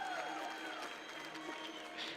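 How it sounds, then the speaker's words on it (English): Audience applause for the route setter at a lead climbing final in Briançon, a soft, distant, steady wash of many hands from a large crowd that blends into general crowd noise. "there he goes, gets the applause"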